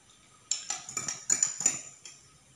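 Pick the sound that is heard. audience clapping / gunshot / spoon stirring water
spoon stirring water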